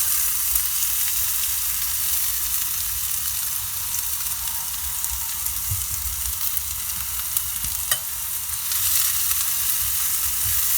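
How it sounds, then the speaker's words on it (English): Mushrooms and peppers sizzling in a hot cast iron pan for taco pie, outdoors in a parking lot, a steady close hiss with faint crackles and a couple of brief utensil knocks, no talk. "That cast iron is all nice and hot now, so let's go ahead and dump in our mushrooms and peppers"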